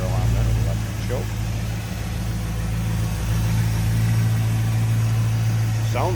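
A 1949 Chevrolet 3100 five-window pickup with an Edelbrock four-barrel carburetor and Performer intake idles steadily nearby, a low continuous engine rumble under a man's speech.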